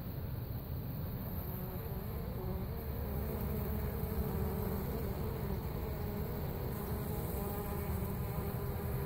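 Dense, steady buzzing of a honeybee colony during a hive removal from the tin frame of a mobile home in Lakeland, Florida, loud and close, continuous throughout with no talk.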